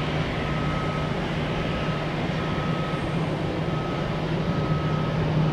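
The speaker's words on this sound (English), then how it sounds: "A300 heavy jet." A FedEx Airbus A300 heavy jet at Tampa airport produces a steady, broad engine roar with a faint whine on top, constant and loud throughout, with no voices.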